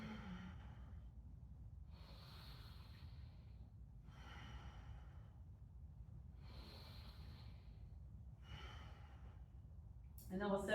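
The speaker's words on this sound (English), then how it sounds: "Breathe with it." Slow, deep breaths during a yoga stretch, roughly four long inhale-exhale cycles spread evenly over the stretch, close and soft over a steady low background hum.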